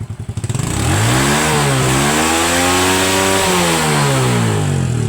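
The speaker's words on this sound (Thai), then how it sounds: "เสียงก็ดีใช้ได้ครับผม ก็แปลว่าใช้งานได้ปกติครับผม" A Honda Wave 100 engine, just repaired after a spark plug fault, catches after a brief cranking stutter, then idles loudly and steadily, rising and falling slightly in pitch with no voices over it.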